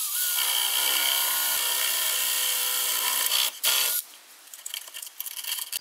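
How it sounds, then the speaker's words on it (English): A flat bit drills a hole in a camper van panel with a steady, loud, high power-drill whir for about four seconds, then stops abruptly, followed by quieter clattering and handling noise. "I'm going to take a flat bit and I'm going to make a hole"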